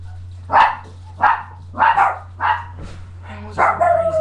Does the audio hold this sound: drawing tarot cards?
no